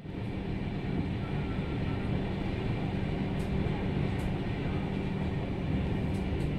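A passenger train arriving at Durgapur on a Kolkata to Prayagraj journey gives a steady, rumbling roll of wheels and carriages, with faint high squeals now and then.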